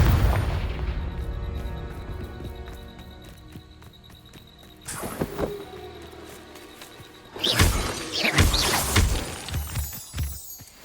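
Blasting spell explosions in the video game Hogwarts Legacy: two sharp booming bursts with shattering debris rise out of a softer in-game ambience and music, loud and close.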